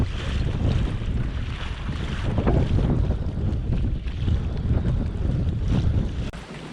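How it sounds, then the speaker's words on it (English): Strong wind buffets the microphone while waves slap and wash around a kayak on Kentucky Lake, a constant loud roar. "that wind really kicked up"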